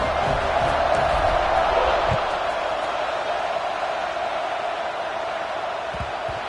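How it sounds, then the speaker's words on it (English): A football stadium crowd roars after a scoring drive, a dense, sustained wash of cheering that stays loud and steady from start to finish, with faint commentary underneath. "this crowd is feeling themselves after that last drive"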